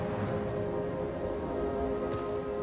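Steady rain hisses and patters across the Death Stranding game trailer's Timefall scene, a dense continuous wash of falling drops with a faint low tonal drone beneath.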